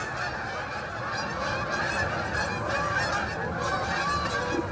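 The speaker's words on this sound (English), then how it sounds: "There's the geese." A large flock of geese honks continuously outdoors, a dense overlapping clamor at moderate distance, loud and unbroken, with no talking.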